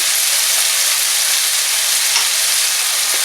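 Spoonful of tomato paste hitting a hot frying pan while cooking a chicken dish, giving a steady, loud broadband sizzle that holds evenly throughout with no talking.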